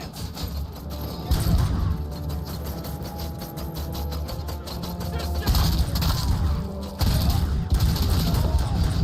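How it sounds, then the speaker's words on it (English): Gunfire in a RoboCop 2 film scene: continuous volleys of automatic weapons with sharp bursts and crashes, loud and busy throughout, with voices shouting beneath the shooting. "Covering fire! Advance!"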